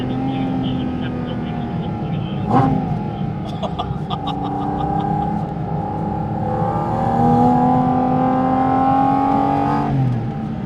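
A Porsche 718 GT4 RS flat-six engine drones steadily close by, its pitch rising and holding through a rev with brief sharp mechanical clicks, loud and continuous for the whole stretch with no talk.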